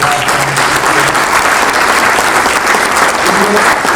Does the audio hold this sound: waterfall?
no